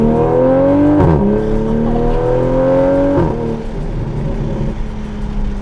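A Toyota A90 Supra accelerates hard in a loud, close engine pull with rising pitch, broken by two quick gear changes before settling into a lower, rougher drone.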